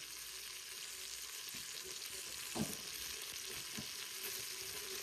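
Big pieces of meat, still frozen inside, fry in a pan with a steady loud hiss and crackle, broken by a few soft knocks and stirring sounds.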